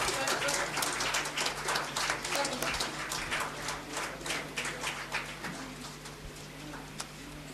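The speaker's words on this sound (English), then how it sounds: "Please give the big round of applause for them." Applause for award winners at a college alumni day event, a steady mass of clapping from an audience that fills the room throughout, with a low hum underneath.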